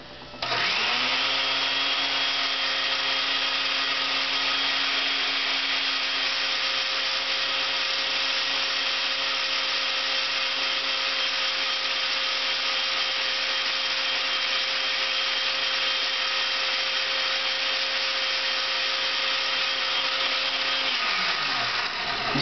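A blender motor blending chiles with water spins up and runs at a loud, steady whine for about twenty seconds before winding down.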